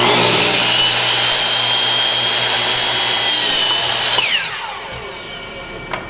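Hand saw cutting a one-foot wooden piece for stagecraft, a steady loud rasping stroke that runs continuously for about four seconds, then stops, leaving a quieter tail.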